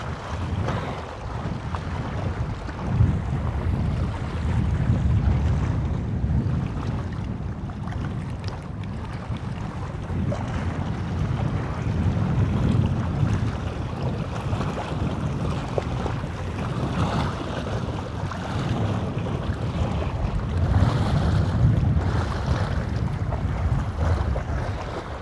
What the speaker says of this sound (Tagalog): Lakas ng hangin mga kalampornas.